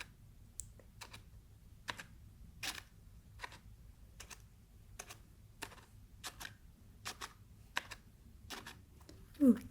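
An orange key pressed again and again gives a run of about a dozen sharp, close clicks at a steady, unhurried pace, each short and crisp over a quiet background.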